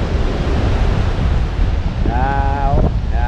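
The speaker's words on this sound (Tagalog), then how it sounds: "Sobrang laki ng alon. Kalibre. Lakas pa ng hangin." Strong wind roars across the microphone over heavy ocean surf during bad weather, a loud, constant wash of noise that never lets up, with a faint wavering tone rising briefly near the end.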